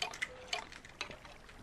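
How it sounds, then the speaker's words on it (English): A few faint drips and splashes of water being placed in a video game, with soft trickling in between. "And just put some water down."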